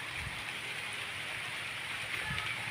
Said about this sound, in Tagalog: Inabutan tayo ng ulan dito.